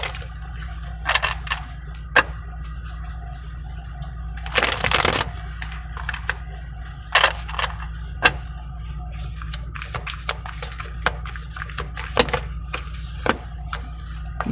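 Light Seers tarot cards being shuffled, heard as soft papery riffles and flicks scattered across the stretch, with one longer rustling burst, over a steady low hum in a quiet room.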